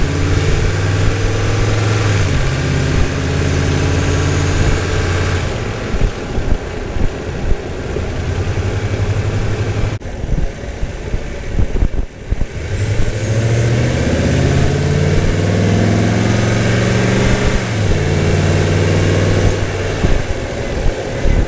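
A Toyota Tundra fitted with a TRD cold air intake idles steadily and loudly up close, its low engine hum with a brief dip midway, alone without talk.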